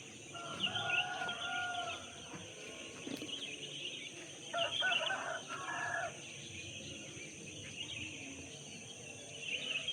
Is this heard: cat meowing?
no